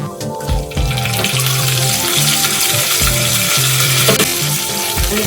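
Red chillies, mustard seeds and urad dal fry in hot oil as a tempering for coconut chutney, with a loud, continuous close-up sizzle and crackle throughout.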